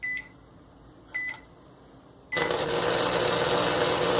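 A refrigerator motor used as a pump during a relay test: two short electronic beeps, then the motor kicks on with a loud, steady broadband hum that continues to the end.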